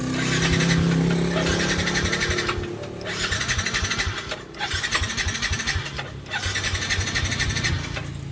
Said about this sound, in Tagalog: hindi umaandar yung motor.